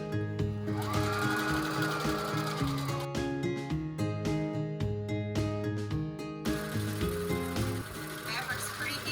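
Sewing machine stitching fabric for a pillow, a steady close whirring hum with a rapid mechanical needle patter, running continuously while people talk over it.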